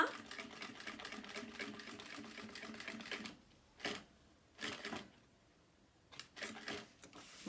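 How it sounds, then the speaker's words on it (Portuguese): A sewing machine stitches a fabric notebook folder near its strap, running in a steady dense burr for about three seconds, then stopping and starting in several short, sharp bursts with quiet gaps between. "E vou costurar aqui, ó."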